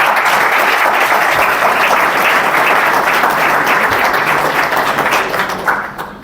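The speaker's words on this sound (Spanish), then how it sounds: "Un fuerte aplauso para él." Loud, sustained applause from a conference audience fills the room, a thick unbroken wash of many hands clapping that fades slightly at the very end.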